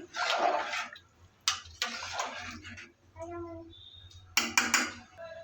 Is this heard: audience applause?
no